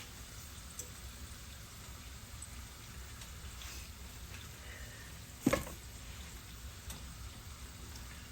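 Potatoes sizzle steadily frying in a pan with a constant crackling hiss, and a single louder clatter cuts through partway.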